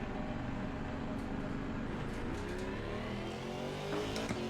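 A race car engine drones continuously at high revs in Assetto Corsa Competizione during a Suzuka 12 Hours test session, loud and steady throughout with faint background noise.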